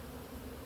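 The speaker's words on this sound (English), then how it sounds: "And I see some bees in here." Honey bees at an open hive during an inspection as they bring in nectar, a faint steady buzzing hum lasting under a second, with no talk.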